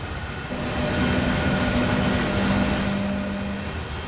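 A freight locomotive in the railway game Train Sim World 4 picks up speed, giving a steady, loud rolling rumble of wheels and motors with sustained tonal whines and no voices.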